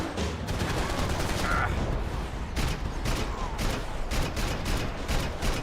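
Laser gun shots in a video game fire as a series of sharp, loud bursts at irregular intervals over steady background game noise.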